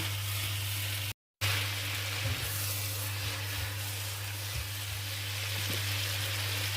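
Tai Mo Choy greens hit a hot pan of canned mackerel and set off a steady, close sizzle and hiss, with a brief cut to silence and a few soft clinks as cooking continues.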